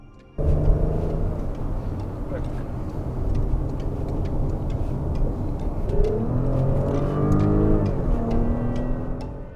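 A 2019 Porsche Cayenne E-Hybrid Tiptronic S (462 hp) revs up and accelerates steadily toward 100 km/h, its pitch climbing through gear changes, loud and close.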